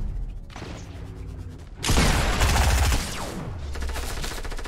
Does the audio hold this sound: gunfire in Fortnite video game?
yes